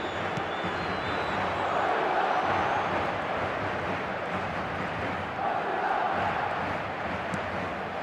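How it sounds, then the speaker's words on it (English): Stadium crowd noise in an eFootball match, a steady dense roar with swells of chanting rising and falling throughout, heard alone with no commentary over it. "the crowd are reacting to that now."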